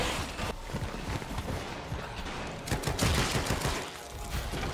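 In the survival horror game The Evil Within 2, a dense burst of gunfire crackles in rapid repeated shots over several seconds, with the loudest volley near the end.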